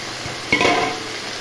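Fresh young bottle gourd tipped into a frying pan of onions and fried lentil dumplings, landing with a short clatter and scrape of stirring utensil against the pan, close and brief.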